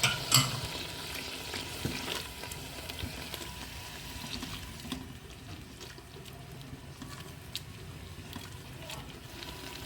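Ginger garlic paste sizzles and frying crackles with browned onions in a pot, a soft steady hiss broken by occasional scrapes of stirring, close and fairly quiet with no voices.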